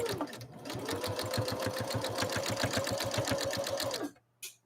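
A Husqvarna Viking Emerald 116 sewing machine runs a straight stitch, its needle chattering in a fast, steady rhythm at close range for about four seconds before stopping, followed by a brief click.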